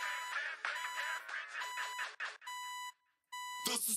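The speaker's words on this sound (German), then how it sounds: "Alarm!" An alarm clock beeps within a German rap track: repeated bright electronic beep bursts with short gaps and one brief silence, loud and upfront against the music.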